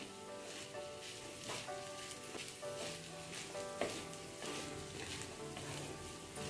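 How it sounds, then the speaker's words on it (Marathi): A spoon scrapes and tosses Schezwan veg fried rice around a pan in quiet rhythmic strokes over a faint, steady sizzle, with occasional light clicks against the metal. "भात हा चांगला मिक्स करून घ्या."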